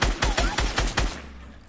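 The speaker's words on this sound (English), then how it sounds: "Shots fired." Rapid burst of about six gunshots from a Fortnite match, evenly spaced and loud, ending abruptly with a faint tail; players' voices are faintly present.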